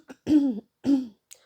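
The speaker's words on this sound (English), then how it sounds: "excuse me for clearing my throat" A person clears their throat in two distinct, close, guttural bursts separated by a short pause, with small mouth sounds before and after.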